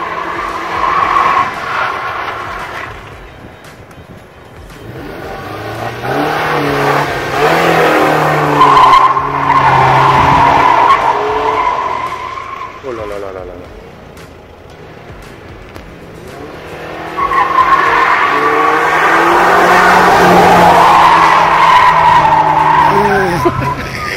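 A 4x4 drifting through city streets by the lake in Tunis, loud long tire squeals and skids in two main sweeps with roaring engine revs between, close and dominant, with faint voices underneath.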